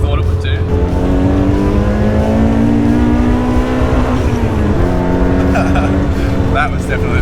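A Toyota KE70 with a 4AGE engine and 4-1 header revs hard, its engine note climbing steadily then holding near the limiter, loud and continuous, with people talking and cheering over it.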